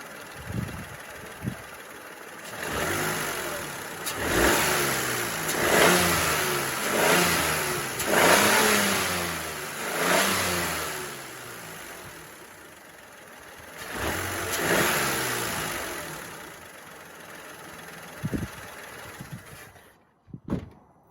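A Peugeot 208 with a 1.2-litre three-cylinder engine is revved repeatedly, rising and falling in several loud bursts before settling back toward idle near the end.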